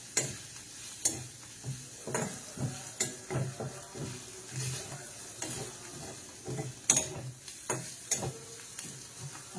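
Paneer fries in butter with a steady close sizzle, punctuated by repeated scraping stirs of a spatula against the pan at an uneven rhythm; no voices.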